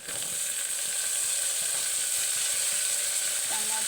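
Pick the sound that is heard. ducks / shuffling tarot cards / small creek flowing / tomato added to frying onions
tomato added to frying onions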